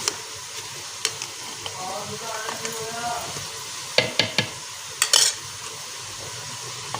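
Onions fry in a pan with a steady, soft sizzle, broken by a few sharp clinks and scrapes of a utensil stirring against the pan.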